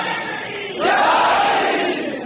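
A religious gathering's crowd raising their voices together in a chant, a low murmur that surges into a loud, unified sustained cry partway through and holds before easing slightly.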